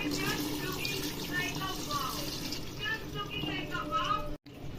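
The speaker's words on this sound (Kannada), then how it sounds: "ಸೊ ಇವಾಗ ನೀರು ಹಾಕ್ತಿದ್ದೀವಿ" Steady splashing water pours into a pot for cooking rice, a continuous liquid rush with a brief break near the end, while a voice talks over it.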